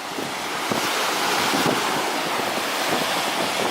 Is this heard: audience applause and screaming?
no